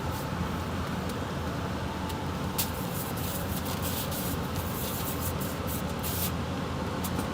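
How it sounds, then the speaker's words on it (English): Sterilizing spray is misted over a work area for banana tissue culture, giving a steady close hiss with sharper spritz bursts toward the end. "So make sure I spray everything."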